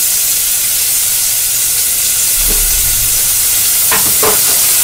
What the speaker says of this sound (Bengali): পেঁয়াজের সঙ্গে ক্যাপসিকামটাকে একটু কষে নিতে হবে।